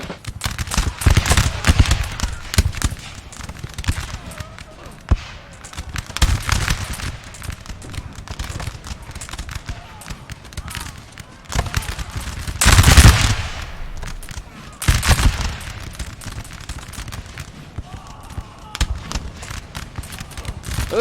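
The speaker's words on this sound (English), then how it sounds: "Watch them have a few volleys." Repeated musket volleys from massed infantry in Napoleon Total War's Battle of Heilsberg, 1807, crackling in dense, overlapping bursts throughout with heavier peaks, faint commentary underneath.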